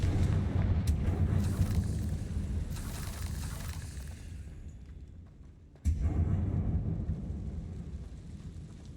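Explosive spell blasts from the Hogwarts Legacy video game, rumbling booms that fade out, then a sudden loud burst followed by a long, deep, decaying roar.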